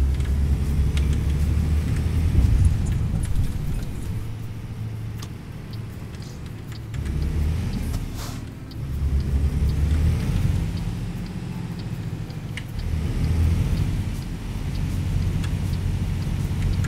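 Heavy truck with a double trailer rolling along an Arizona highway toward Yuma in American Truck Simulator, a steady low engine rumble with road noise that swells and dips a few times, no talking.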